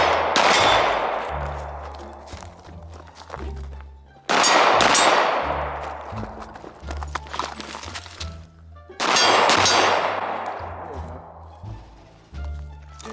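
Rapid Glock 19 pistol fire with a red dot sight at steel targets: three bursts of quick shots ring out loud and close, each shot followed by a metallic clang of steel plates, with short pauses between strings and no talking.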